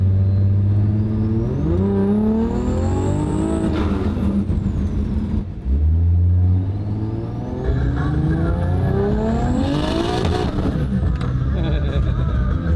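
A race car capable of over 280 mph revs loudly up and down close by, its engine pitch sweeping high in repeated climbs, with a short dip in the middle.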